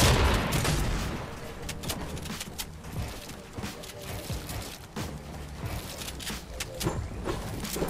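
Rapid gunfire from the Mythic MK7 rifle in a shooter video game, a dense run of sharp repeated shots and booms across the whole stretch, close and loud with game effects layered in.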